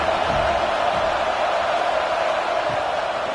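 A football stadium crowd roars during a college game between Ohio State and USC as the home fans get behind the defense on third down. The noise is a loud, steady, dense wall of sound that holds for the whole stretch without a break.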